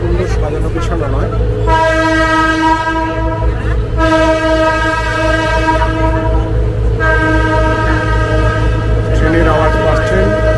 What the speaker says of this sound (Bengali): ট্রেনের আওয়াজ পাচ্ছেন, গঙ্গার পার দিয়ে যাচ্ছে ট্রেন।